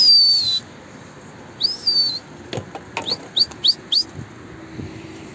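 Clear bird chirps ring out: a few longer whistled calls, then a quick run of short tweets against quiet background noise.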